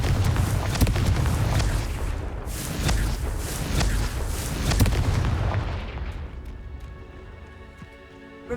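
Confringo, the fiery blast spell in the video game Hogwarts Legacy, sets off a rapid series of loud booming explosions over a deep rumble, then fades into a quieter crackling tail.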